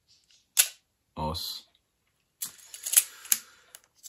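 Canon AE-1 Program 35mm film camera firing its shutter on a 2-second exposure: an opening clack, a pause, then a closing clack, with a short spoken word in between and more clicks and handling noise afterward.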